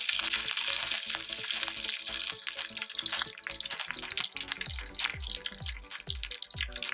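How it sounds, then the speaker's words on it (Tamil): Mustard seeds pop and splutter in hot oil as curry leaves go in for Tamil garlic rice, a dense broadband sizzle with sharp crackles that grows into louder, near pops toward the end, with no voices. "கடுகு நல்லா பொரிஞ்ச உடனே கருவேப்பிலை கொஞ்சம் சேர்த்துக்கலாம்."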